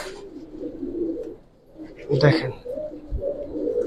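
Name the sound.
pigeon cooing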